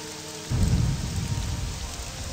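Rain and thunder in an Elder Scrolls video game: a sudden rumble of thunder breaks in and rolls on over a dense, steady patter of rain, loud and close, with no talking.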